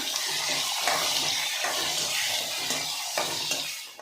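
Green chillies and thickly cut onions frying in a pan for a mango chitranna meal give a steady, close broadband sizzle with faint stirring scrapes, continuous for about four seconds and fading at the end.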